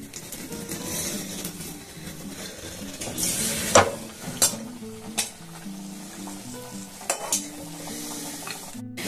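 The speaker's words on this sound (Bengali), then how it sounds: "সেই জন্য একদম মিডিয়াম টু লো ফ্লেমে কিন্তু এগুলোকে ভেজে নিতে হবে।" Date-jaggery arsha pitha frying on a medium-low flame, with a steady soft sizzle of oil under repeated scrapes and clinks of a spatula stirring in the pan, close and fairly loud.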